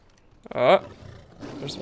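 A short, loud roar from a cave lion in the video game Far Cry Primal bursts out and fades within a second, followed by softer background game sounds.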